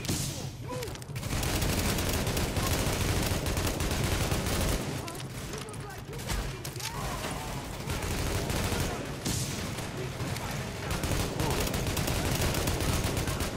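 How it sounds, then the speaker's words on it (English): Sustained automatic gunfire with incendiary rounds in The Division, set at Madison Square Garden, rattling steadily and loudly for the whole stretch with brief lulls and players talking over it. "Lighting them up with some incendiary rounds, guys"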